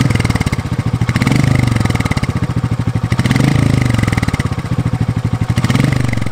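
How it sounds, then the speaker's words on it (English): A Royal Enfield Meteor 350 motorcycle engine idles up close with a loud, even thudding beat that swells and fades slightly in a slow cycle, with no talk over it. "the engine makes a wonderful sound at tick over."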